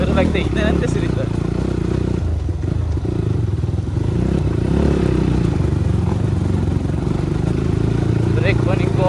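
A motorcycle on a dirt track runs as a loud, steady engine drone with rattling and wind buffeting throughout, close to the microphone.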